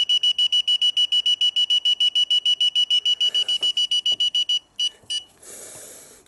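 Rapid, evenly spaced electronic beeps from a FUYI FY876 EMF meter alarm in its red range sound close and steady, then break off into a few scattered beeps and a short hiss at the end.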